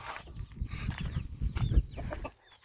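Silkie rooster in a henhouse giving a run of close, low clucks and throaty calls, with other fowl stirring nearby and a short quiet gap at the end.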